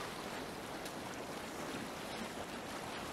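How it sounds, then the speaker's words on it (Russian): In Assassin's Creed Valhalla, a sailing boat moves quickly over waves, giving a steady rushing wash of water and wind noise, continuous and moderately loud with no voices. "Довольно быстро плывет под парусом."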